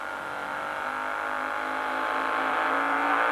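Engines of scale model aircraft throttle up for takeoff at a Scale Masters 1991 contest, a steady buzzing drone that grows slowly louder and rises slightly in pitch, no talking.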